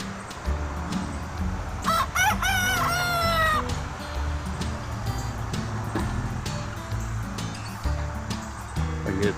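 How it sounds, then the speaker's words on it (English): A rooster crows once, loud and near, a rising then drawn-out call over steady low background rumble and scattered clucking. "He's a very pretty rooster."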